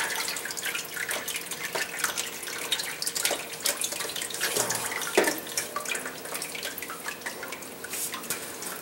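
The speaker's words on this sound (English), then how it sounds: "leave the pan under the transmission because it's going to keep dripping for a while" Transmission fluid draining from a Dodge RAM 1500 into a catch pan: a steady stream of close, irregular drips and splashes continues throughout, with no voices.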